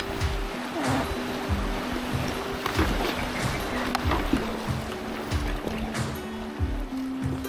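A paddle dips rhythmically into a river while a small boat is pushed upstream, close splashes repeating about every half second over a constant wash of flowing water.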